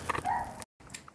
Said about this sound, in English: Sorry for the loud barking dog.